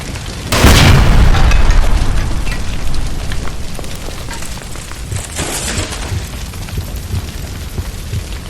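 A gas line blows up in the L.A. Noire video game, giving one loud sudden boom that rumbles and crackles for several seconds before settling into a lower, steady wash of noise.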